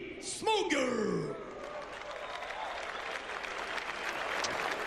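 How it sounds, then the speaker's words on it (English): A boxing event crowd applauds the referee, a loud whoop and shout at the start, then sustained clapping and cheering from a large audience. "Big applause for Mr."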